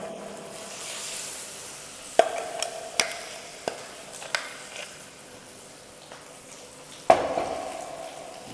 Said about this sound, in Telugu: తాలింపు అంతా బాగా వేగంగానే మిక్సీ చేసుకున్న గోంగూర అంతా వేసేసుకోవాలి.